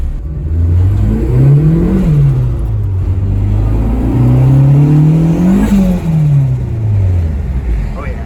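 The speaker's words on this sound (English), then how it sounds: "I'll give it just a little bit of gas so you guys can hear it" Acura RSX turbo with a new custom downpipe exhaust revs up and down twice under light throttle, a loud close rumbling engine note rising and falling, with a voice talking over it.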